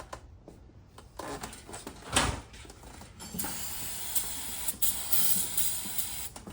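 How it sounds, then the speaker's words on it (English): Brake cleaner sprayed from an aerosol can into the engine valley of a 6.0 diesel: several close hissing bursts of varying length, short spurts and a longer sustained spray, separated by brief pauses. "I want to spray Gary's Valley out right here a little bit."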